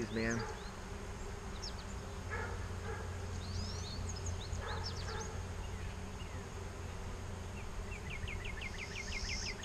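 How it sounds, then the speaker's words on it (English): Honeybees buzzing on a hive frame, a dense low hum of many bees close by, joined by birdsong chirps in the background. "there are a lot of bees"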